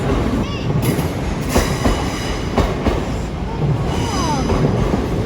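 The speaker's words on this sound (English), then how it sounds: "Look at that train! Wow, so fast." A fast, long train rushes past close by on a British rail line, with loud rumbling, rattling wheels and clickety-clack over the rails, plus a few faint squeals.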